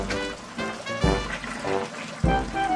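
Siphoned aquarium fish water splashes and trickles into a bucket, with a few sharper pours and gurgles standing out over a steady flow, close and moderately quiet.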